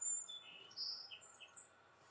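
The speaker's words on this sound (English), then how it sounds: "It might just be a weird bird." A few faint, high, thin bird chirps come in short separate bursts against a hushed background, sounding some distance away.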